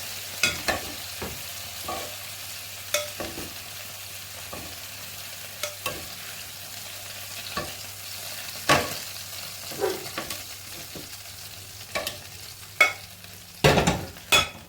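Browned chicken thighs are lifted out of a frying pan into a bowl amid a low, steady sizzle, with repeated tong and utensil clacks against the pan, a louder cluster near the end.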